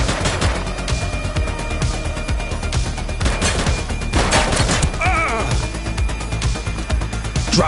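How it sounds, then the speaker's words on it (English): Heavy, continuous gunfire in the police video game The Precinct, overlapping bursts of shots and impacts crackling loudly throughout, with occasional faint voices beneath. "He's shooting!"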